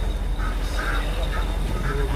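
Peking ducks on a farm in barangay Bungot quack several times in quick, nasal bursts over a noisy background.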